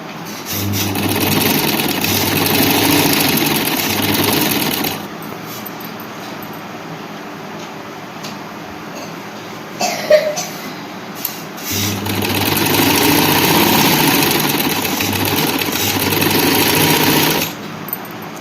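A sewing machine stitches along a folded fabric edge, running in two long steady whirring stretches with a short pause and a few clicks between them, close and loud with no talking.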